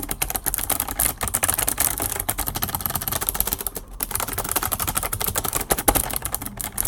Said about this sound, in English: here's what my previous keyboard sounded like.